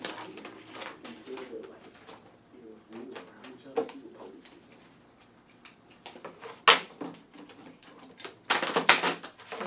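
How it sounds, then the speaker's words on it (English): Rapid papery riffling bursts of shuffled tarot-style reading cards, loudest near the end, with soft talk and faint rustling earlier. "Get a good shuffle here."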